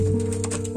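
A short, low coo from a pigeon, close by and clear, with no talking.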